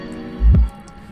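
Water is poured into a potted tulsi plant and drains through loose soil, giving a single soft, wet squish or plop up close against a quiet background.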